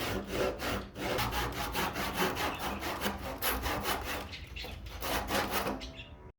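Chamfers are being cut into a wooden handrail test piece cut from a beam, with steady rhythmic back-and-forth sawing and rasping strokes, close and loud, continuing without pause.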